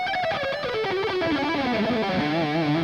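A distorted electric guitar runs quickly through a descending string of notes, then wavers near the bottom, played alone and fairly loud.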